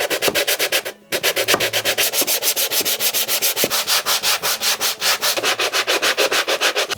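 Rapid, rhythmic rasping of an oscillating tool sanding wood, close and loud, with strokes repeating several times per second and one brief pause.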